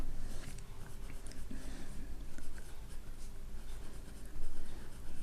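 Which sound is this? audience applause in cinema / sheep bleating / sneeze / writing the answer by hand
writing the answer by hand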